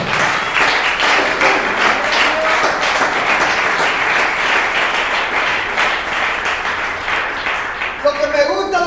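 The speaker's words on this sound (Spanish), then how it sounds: "Denle la aplauso al Señor" Sustained applause from a church congregation praising the Lord, dense and steady throughout, with a few voices rising near the end.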